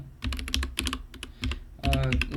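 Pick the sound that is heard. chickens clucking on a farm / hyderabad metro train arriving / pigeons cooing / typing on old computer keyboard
typing on old computer keyboard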